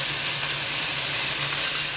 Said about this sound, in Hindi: और इसको मिक्स करेंगे अच्छी तरह। लहसुन अदरक के साथ फ्राई करेंगे।